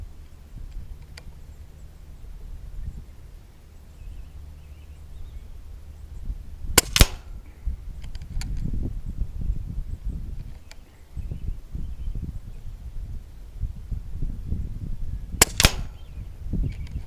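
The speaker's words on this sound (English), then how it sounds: "there's 5 shots of JSB 18s" Two sharp shots from a Umarex Notos compact PCP air rifle with a Terminador Industries high-power build, firing 18-grain JSB pellets, crack out several seconds apart over quiet outdoor background noise, with faint rustling and small knocks between them.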